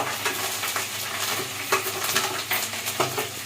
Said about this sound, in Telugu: చిట్పట్లు ఆడుతుంది కదా, టిఫిన్ కదంటేనే చిట్పట్లండి.